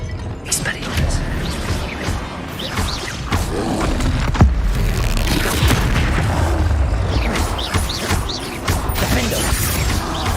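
Spell-casting in the Hogwarts Legacy video game, a disarming Expelliarmus cast amid combat: dense mechanical clatter and repeated booming impacts over a steady loud bed, with a voice speaking in the mix.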